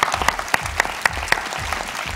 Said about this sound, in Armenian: եկեք ծափանենք նախ Անդրեին